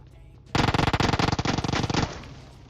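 Loud, rapid automatic gunfire from a rifle in the PUBG Mobile video game rattles off in one sustained burst of closely spaced shots, then stops abruptly.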